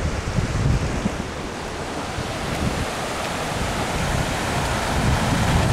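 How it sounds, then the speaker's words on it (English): Floodwater pours over a dam in a once-in-a-lifetime March 2010 flood, giving a dense, continuous roaring rush with steady wind buffeting the microphone and no talking. "Here's the dam. Water's over the dam."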